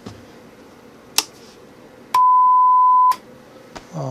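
A KT88 single-ended tube amplifier plays a steady test tone lasting about a second, loud and pure, set between a few sharp clicks and brief switching noises.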